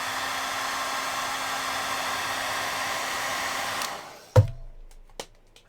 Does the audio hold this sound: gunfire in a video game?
no